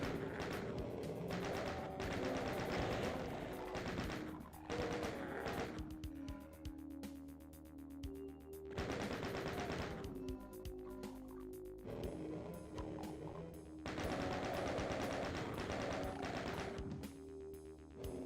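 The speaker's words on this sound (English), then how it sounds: "I'm gonna use the chain gun" A chain gun rattles in Classic DOOM in long bursts of rapid shots, with short pauses between them, mixed with game sounds at a low level and no talking.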